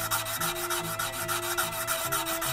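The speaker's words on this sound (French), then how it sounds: "Le but là c'est vraiment de faire du polissage, donc c'est d'enlever vraiment toutes les rayures du backstand qui pourraient rester sur la lame" Steady back-and-forth rubbing of Gesswein diemaker polishing stones along a knife blade, a dry rasping scrape repeating in quick even strokes, close and continuous with no voices.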